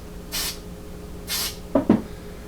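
Two short hissing bursts of spray lubricant on the metal parts of an S&W M&P 15-22 rifle bolt, evenly spaced and close, followed by two quick metallic clicks or taps.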